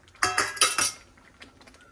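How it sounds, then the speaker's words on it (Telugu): A spoon works through a semolina dish in a metal pot, four quick close scraping clinks in a burst, then quieter scattered taps. "మంచిగా అన్నీ కలిపేసుకోవాలి మనం."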